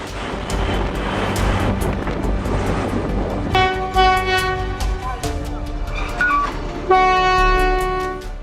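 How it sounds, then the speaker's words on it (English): A Japanese bullet train rushing past, a loud sustained roar and rumble with a rising whine, and bright horn-like tones sounding in the second half. "This Japanese bullet train runs at over 200 miles per hour."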